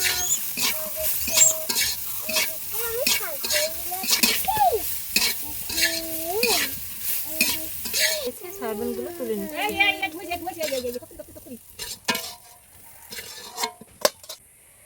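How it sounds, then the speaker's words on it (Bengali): Soy chunks fry in hot oil with a pinch of salt and turmeric powder, giving a steady close sizzle broken by repeated clicks and scrapes of stirring; the crackle thins and quietens toward the end. "ওই তেলে আমি সয়াবিনগুলো একটু ভেজে নেব সামান্য একটু লবণ এবং হলুদের গুঁড়ো দিয়ে দিলাম"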